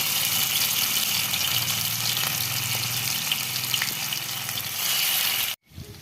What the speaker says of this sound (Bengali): তেল গরম হয়ে গেছে এখন একে একে মুঠাগুলোকে ভেজে নিব হালকা ব্রাউন শেপে